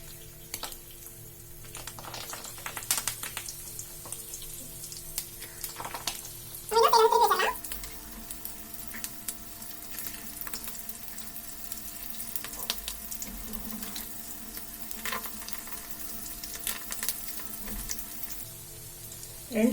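Chickpea and potato snacks fry in hot oil in a pan over a medium flame, a steady, faint crackling sizzle throughout with a brief louder burst of spluttering partway through.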